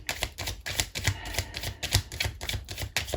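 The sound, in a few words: shuffling a tarot card deck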